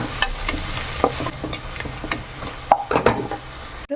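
Onions frying in a pan for mutton curry, a low sizzle broken by irregular spatula scrapes and stirring knocks, close and fairly quiet, with no talking.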